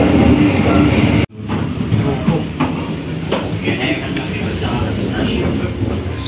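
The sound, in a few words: KA Banyubiru train running on rails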